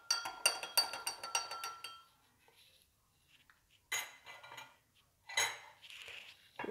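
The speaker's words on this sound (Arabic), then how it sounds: "نحركوه فقط" A metal utensil stirs sauce in a pot for a beans and rice dish, giving a quick run of close, bright clinks and taps for about two seconds, then scattered softer scrapes and knocks.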